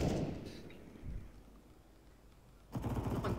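Counter-Strike gunfire on the map Anubis, a burst of shots at the start and another at the end, with a quiet, faint stretch in between and no talk.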